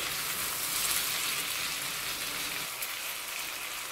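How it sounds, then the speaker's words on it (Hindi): Tomatoes and green chillies fry in a pan of karela (bitter gourd) masala, giving a steady, broad sizzle that holds evenly throughout with no talking. "इसके अंदर हमने शामिल कर लेने हैं टमाटर और हरी मिर्ची, ताकि ये भी साथ अच्छे से फ्राई हो जाए और गल भी जाए"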